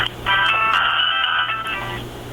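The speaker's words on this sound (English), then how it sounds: "I hear my phone going on." A mobile phone alarm rings nearby, a bright repeating electronic tone sounding for about two seconds over quiet room noise.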